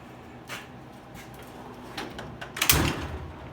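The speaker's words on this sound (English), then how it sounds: "drawers open up real nice." Drawers of a Harbor Freight 72-inch steel tool box roll open and shut, a few soft sliding strokes ending in one firmer closing clunk, close and fairly quiet with no talk.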